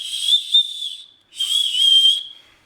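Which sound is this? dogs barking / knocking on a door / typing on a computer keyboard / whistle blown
whistle blown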